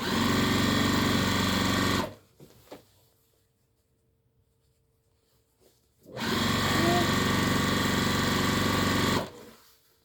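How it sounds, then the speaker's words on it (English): A sewing machine runs a second line of stitching along the edge of an apron in two steady, loud bursts of about two and four seconds, separated by a near-silent pause with faint handling clicks. "we'll go back and throw in that second line of stitching along the edge"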